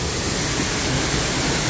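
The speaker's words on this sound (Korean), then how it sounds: "와, 폭포는 바로 앞에 있습니다." Steady, dense roar of Hongryong Falls at Hongryongsa temple in Yangsan, Korea, broad and constant with no breaks, loud and close.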